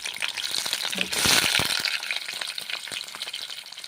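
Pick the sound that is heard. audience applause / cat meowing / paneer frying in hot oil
paneer frying in hot oil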